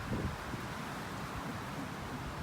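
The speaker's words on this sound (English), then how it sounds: "it is windy. It's blowing." Wind gusts across a beach in North Naples, Florida, a soft, steady broadband rush buffeting the microphone with low rumbling swells and no voices.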